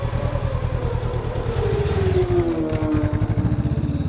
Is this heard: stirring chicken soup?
no